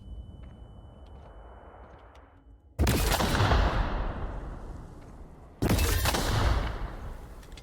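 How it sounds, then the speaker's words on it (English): Two sudden, loud, broadband bomb blasts in The Outer Worlds, each cutting in abruptly over a quieter ambient bed and then rumbling and decaying for a few seconds before the next hit. "Dude, I keep hitting these dang bombs."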